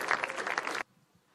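An audience breaks into brief, dense clapping that cuts off abruptly, leaving near silence.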